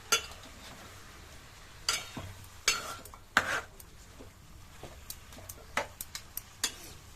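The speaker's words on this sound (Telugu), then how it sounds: "పసుపు వేసిన తర్వాత చికెన్ అంతా కూడా కలుపుతుంది అన్నమాట" Chicken mixed with turmeric being stirred in a metal vessel for Telangana-style chicken, making scattered close clinks, scrapes and knocks of utensil on pot over a quiet background, with no one talking.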